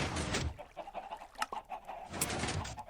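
Chickens in the video game Minecraft cluck softly a few times in short, scattered bursts, faint and without any talk.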